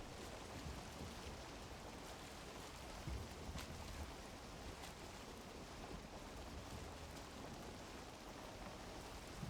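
Steady in-game rain in Valheim's Ashlands pours down in a continuous soft hiss with faint rumbling underneath, with no voices and no break in the downpour.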